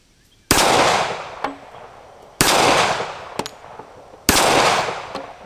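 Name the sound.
Colt MK IV Series 80 1911 pistol shots at steel plates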